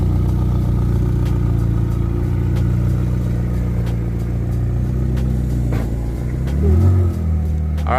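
A McLaren GT drives away, a steady engine rumble with one rising rev near the end.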